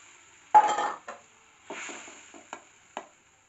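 Shrimp are tipped into a cooking pot for a tamarind shrimp curry, with a sharp clatter of metal and a short sizzle, then a few lighter clinks of utensils against the pot.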